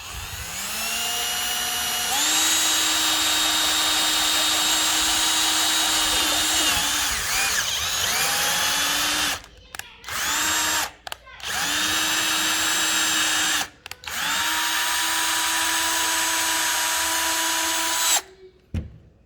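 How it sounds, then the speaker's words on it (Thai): A power drill with a thread-tapping bit whirs loudly in sustained bursts, pitch rising as it bites into plastic, with a few short pauses between runs and no talking. "ก็เจาะง่ายๆครับเพราะว่ามันเป็นพลาสติกด้วย"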